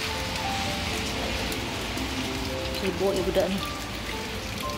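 Monsoon rain falls steadily on surfaces outdoors, a constant soft hiss near the listener, with a brief voice speaking over it.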